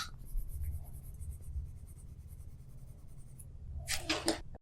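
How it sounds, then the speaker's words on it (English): Graphite pencil rubbed lightly back and forth on drawing paper gives a soft, close, continuous scratchy hiss, ending in a sharper brief scrape. "You can also rub graphite lightly on both sides."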